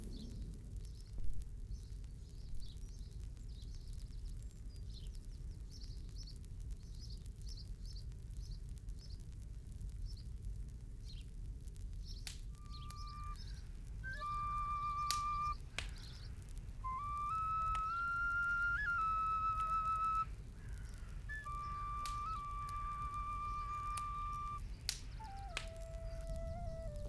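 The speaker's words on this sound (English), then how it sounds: "Do you hear the birds singing?" Birds sing in a Norfolk wood, with clear whistled phrases and chirps arriving in bursts from the middle onward over a steady low rumble of outdoor ambience.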